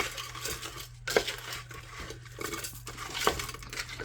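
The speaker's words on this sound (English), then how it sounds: "just stir it up" Cheesy beef and broccoli being stirred in a pot, with repeated scraping and clinking of a utensil against the metal at an irregular rhythm, close and fairly loud.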